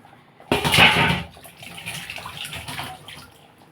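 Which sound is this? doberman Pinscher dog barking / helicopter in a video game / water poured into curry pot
water poured into curry pot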